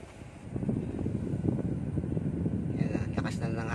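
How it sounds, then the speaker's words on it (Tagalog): The AC blower motor of a Hyundai Accent, just cleaned and refitted, runs at fan speed 2 with a steady airy whoosh and hum, while someone talks over it. "Na-start ko na guys, nakabit ko na rin yung blower motor."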